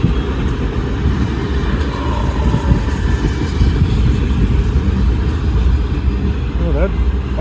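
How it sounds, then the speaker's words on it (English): A CSX freight train with auto rack cars rolls past a road crossing, a steady loud rumble of wheels and engine with a voice briefly heard near the end. "Say that this train comes from Selkirk, New York."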